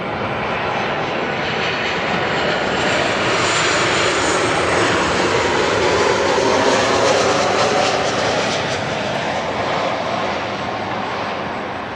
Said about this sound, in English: Oh, and another Southwest arrival here